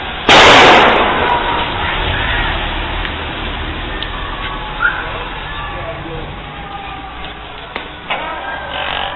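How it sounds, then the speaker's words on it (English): In Iran, a sharp burst of firecrackers cracks loudly at the start, followed by scattered faint pops over a steady background din and voices. "I think they're setting off firecrackers."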